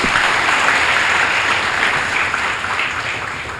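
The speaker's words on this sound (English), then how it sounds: "let's give a big round of applause to the entire management of British Way English Academy to work together on this." Audience applause at an academy authorization event for British Way English Academy, a full, even wash of clapping from many people that holds steady and fades slightly over a few seconds.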